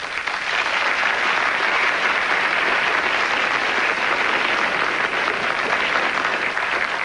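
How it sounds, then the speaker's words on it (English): Studio audience applause on a late-night talk show, a dense, steady wash of clapping from a large crowd, loud and sustained throughout with no voices over it. "You seemed reluctant to applaud"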